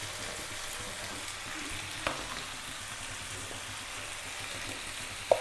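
A soft, steady sizzle comes from tomato masala frying in a pan for Bengaluru-style tomato rice. It is stirred with a couple of quiet spoon taps and a brief clink at the end, heard fairly faint and without voices.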